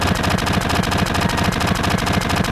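Rapid automatic gunfire in the Final Fantasy VII video game, a loud, dense, evenly spaced stream of shots running without pause throughout.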